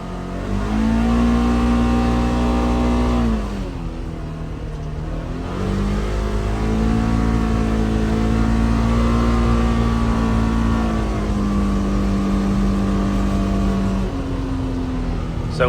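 2024 Polaris Xpedition UTV engine droning and revving as it drives a trail, a steady mid-pitched hum that dips briefly, then climbs and holds under load, heard from inside the cab.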